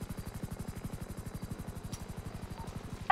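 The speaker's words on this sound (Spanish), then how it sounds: "El helicóptero ese. Está aterrizando aquí adelante." A helicopter in GTA RP hovers close by, its rotor chopping in a fast, steady pulse for a few seconds with no voices over it.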